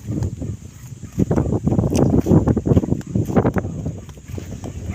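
Gusty wind buffets the microphone in uneven bursts, rising and falling with a rough, rumbling rush.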